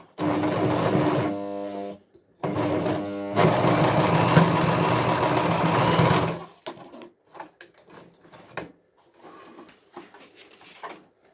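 A Jomita portable walking-foot zig-zag industrial sewing machine stitches in loud, close bursts, a rapid mechanical chatter that stops briefly, resumes, then gives way to quieter handling clicks and thumps.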